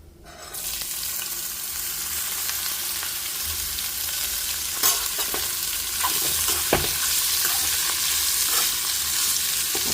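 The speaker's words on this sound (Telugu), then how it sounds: "సో పోపు అయితే వేగింది ఇప్పుడు నేను ఈ కూర ఉడికించి పెట్టుకున్న కూర అయితే వేసేస్తున్నా" Boiled vegetable curry, bobbarlu beans, goes into hot frying tempering with a sudden loud sizzle that carries on steadily, broken by a few scraping stirs of a spoon in the pan.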